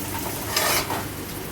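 Onion frying in oil over a low flame, a steady hiss of sizzling with a short stirring scrape in the middle, close and alone.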